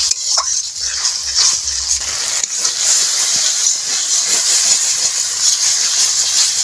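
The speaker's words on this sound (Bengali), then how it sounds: "দেব নারকেল বাটা, আবার একটু কষিয়ে নেব।" Ground coconut paste frying with pointed gourd, salt and turmeric in a pan gives a steady, close hiss of sizzling that runs through the whole stretch, with a few faint stirring knocks near the start.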